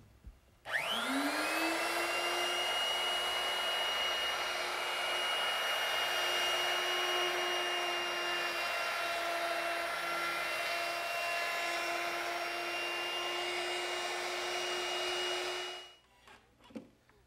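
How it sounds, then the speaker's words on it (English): A router fitted with a chamfering bit spins up sharply and holds a loud, steady high-pitched whine while easing the sharp top edges of a workbench, then winds down after about fifteen seconds. "I'll ease those using a chamfering bit mounted in my router"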